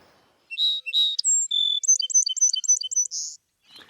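Several songbirds sing in a quick, bright run of notes: two rich warbling phrases, a couple of whistles, then a rapid series of repeated chirps ending in a buzzy note, close and clear with no talking.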